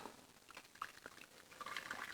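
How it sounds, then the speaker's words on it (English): Warm water from a kettle is poured into a dish as a faint, close trickle with small splashes and drips. "pour some of that warm water"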